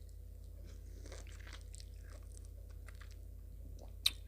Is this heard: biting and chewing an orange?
yes